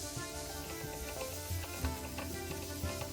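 Onions, garlic and minced meat sautéing in oil for spaghetti bolognese, heard as a faint steady sizzle with light stirring and utensil scrapes, plus a few soft knocks near the end.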